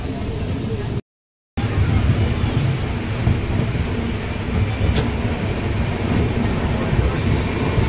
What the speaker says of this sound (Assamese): কি ট্ৰেইন এইখন? পাকিস্তানৰ ট্ৰেইন।